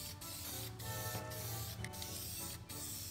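Spray paint can laying a second coat on a rusty steel wheel rim, a steady close hiss held almost without break, dipping briefly a few times between passes.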